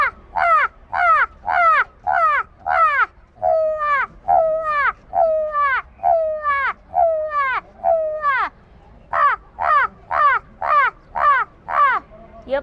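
A human voice imitates an old village crow, giving a long run of harsh, evenly spaced caws, about two per second, loud and close with no other sound.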